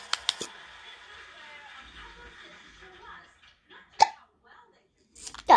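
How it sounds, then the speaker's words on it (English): A person hiccups indoors, with a few sharp, isolated hiccups spaced seconds apart over a quiet background and some soft, faint sounds in between. "Got hiccups."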